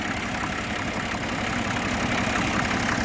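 A 1961 Case 930 diesel tractor idling, a steady low rumbling engine with even knocking pulses, close and fairly loud, no voices.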